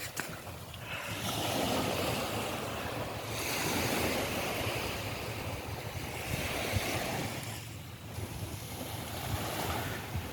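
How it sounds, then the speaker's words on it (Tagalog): Calm sea washing gently onto the shore at a Bicol beach, a steady soft wash of small waves with light wind noise throughout, swelling and easing every few seconds, no voices. "Napakakalmado ng dagat."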